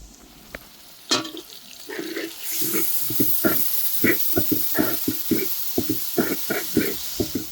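Onions, garlic and ginger sauté in a pan for an egg curd gravy, giving a steady close sizzle broken by a rhythmic series of stirring scrapes and clatters.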